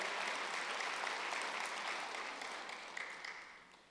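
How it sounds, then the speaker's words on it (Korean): Church congregation applauding together during a Wednesday worship service, a steady, dense wash of clapping that holds for several seconds and slowly tapers off, with no talk over it. "박수 하세요."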